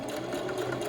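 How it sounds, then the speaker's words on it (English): Sewing machine stitching stretched elastic onto a T-shirt mask, a faint brief mechanical whir with a soft rapid rhythm. "sew it while the elastic is stretched"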